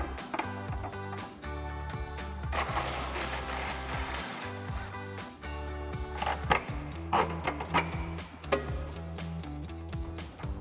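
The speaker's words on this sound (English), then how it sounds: "I'm going to put my 18 millimeter on the back here and my 15 millimeter on my 3/8 gun. We're going to remove this bolt here first." A 3/8 impact gun works a sway bar bolt on a 2005-2014 Mustang, its rapid hammering rattle coming in repeated bursts with clanks and tool noise between them, close and fairly loud.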